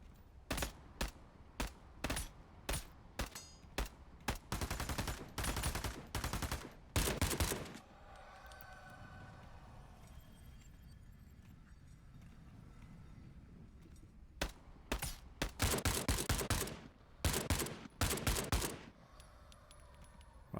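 Bursts of machine gun fire in a video game raid, rapid sharp shots in clustered volleys near the start and again later, loud and close, separated by a quieter stretch of ambient noise.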